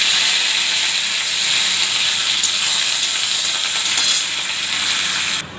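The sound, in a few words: neem leaves frying in oil in a wok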